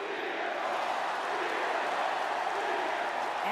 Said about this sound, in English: As the crowd go wild for Punk.